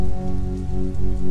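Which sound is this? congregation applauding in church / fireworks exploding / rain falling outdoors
rain falling outdoors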